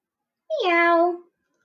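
A person imitates a cat with a single drawn-out meow, rising then falling, alone against silence.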